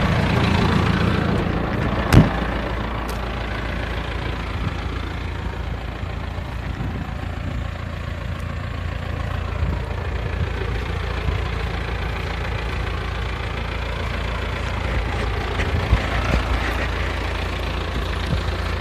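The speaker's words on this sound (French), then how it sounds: "aujourd'hui je décompacte cette parcelle qui était en orge pois" A tractor engine drones steadily while decompacting a field that previously held a barley and pea crop, a constant low rumble with a faint knock, close and continuous with no break.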